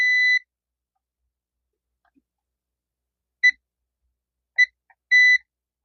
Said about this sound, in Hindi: एक आपका ये कैपेसिटर है जो कि बीप मार रहा है